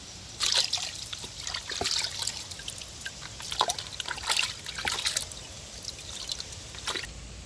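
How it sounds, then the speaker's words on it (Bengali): Water splashes and trickles as hilsa fish are washed by hand in a bucket, with scattered close-up sloshes and drips at a soft level. "এইভাবেই আমি ছালটা তুলে ভালো করে বালতিতে জল নিয়ে আসছি, মাছটা ধুয়ে নিচ্ছি।"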